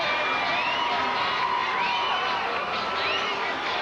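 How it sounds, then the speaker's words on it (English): A stadium crowd roars and whoops at a Canadian Bowl junior football game after a go-ahead field goal, the cheering dense and sustained with shrill whistles and shouts rising through it. "The crowd totally erupted after that field goal"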